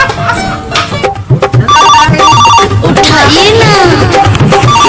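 A telephone rings with a repeating electronic tone while loud voices talk over it throughout.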